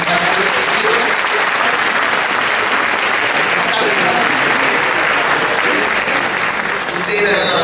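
Sustained, dense applause from a theatre audience at a Cuban rumba performance at Teatro Mella in Havana, loud and steady throughout with voices faintly mixed in.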